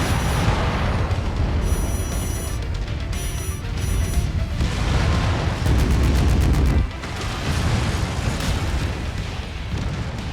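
Video game explosions from a mech blowing up in MechWarrior 5 produce dense, loud, continuous booming and rumbling blasts, overlaid with beeping interface tones.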